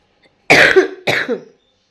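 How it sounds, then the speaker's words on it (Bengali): Two close, loud, harsh coughs in quick succession from a person with a heavy cough, each sharp and breathy, in an otherwise quiet room. "কাশিতে এমন কাশি হচ্ছে প্রচুর কাশি"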